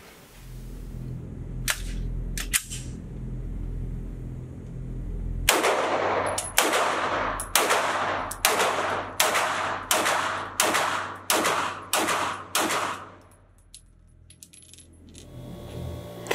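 A full-size Walther PDP handgun with a 4.5-inch barrel fired at a range: a few faint pops, then about a dozen loud, sharp shots at a steady, even pace, each followed by a short ringing decay.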